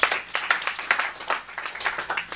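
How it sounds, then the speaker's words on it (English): Audience clapping at a business hypnotist's live show, with a crowd applauding in quick, uneven bursts that rise and fall in a pulsing rhythm, fairly close and lively. "have a big round of applause for Chris."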